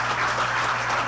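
Steady, dense applause from an audience at a certification awarding ceremony, continuous and fairly loud throughout with a faint hum beneath.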